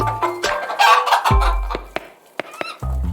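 Several loud, close clucks from a chicken in a short irregular burst, with brief pauses between calls.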